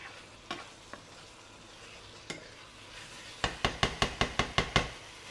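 Chicken liver fries in a pan with a low, steady sizzle, punctuated by a few isolated knocks and then a quick rhythmic run of about eight utensil taps against the pan near the end.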